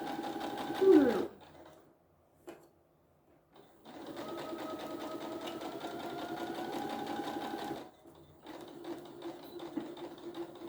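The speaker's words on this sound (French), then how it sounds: "En parallèle de ma ligne de bâti, sans chevaucher, je couds tout le long." Sewing machine stitching fabric parallel to a basting line in steady bursts, a near, even mechanical whir that runs for several seconds, pauses, then starts again.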